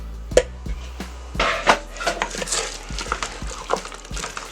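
Potatoes stirred in chicken broth in a pot for loaded potato soup, with scattered clinks and scrapes of a utensil against the pot and soft sloshing, close and irregular.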